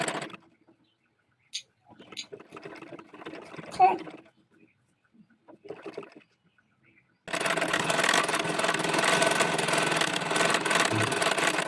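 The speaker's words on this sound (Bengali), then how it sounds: "প্রথমে নিচের অংশ একটা ভাঁজ দিয়ে আরেকটা ভাঁজ দিয়ে তারপর সেলাই করছি।" A sewing machine stitches a double-folded hem on a baby dress made of single-colour gauze fabric, running as a loud, steady continuous whir over the last few seconds after scattered quieter handling sounds.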